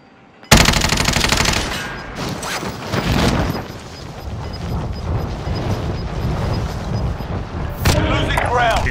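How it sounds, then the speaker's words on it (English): A sentry gun in Call of Duty: Modern Warfare opens up with sudden loud, rapid automatic fire, then a dense sustained clatter of gunfire and mechanical rattling with brief bursts and a spoken voice mixed in. "Enemy sentry gun active."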